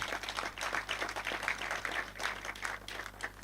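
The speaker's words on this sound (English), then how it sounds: "Can we give them a clap?" An audience claps in a dense, continuous patter throughout at a public youth-focused event, moderately distant and fairly soft, with no voices standing out.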